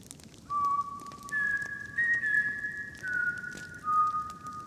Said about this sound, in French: Toutes les nuits, de 3h03 à 3h05 du matin, un sifflement se fait entendre.